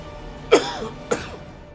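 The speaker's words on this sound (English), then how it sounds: "Sorry to keep on coughing." A commentator casting a herO versus GuMiho StarCraft match coughs twice, a sharp close cough followed about half a second later by a slightly softer second one, with no talking.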